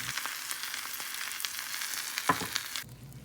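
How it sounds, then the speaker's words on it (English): An egg and sausage links fry in a pan with a steady close hiss and crackle, scattered pops and a stirring clatter, before the sizzle cuts off. "I started off by frying an egg and some sausage links"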